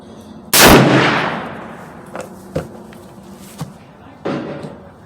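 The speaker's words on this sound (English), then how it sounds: "I'm gonna be taking 2 shots at 50 yards, right lower target," A Henry 45-70 lever-action rifle fires once at a target 50 yards out, a loud, close blast with a long decaying echo, followed by a few faint thumps and clicks of handling.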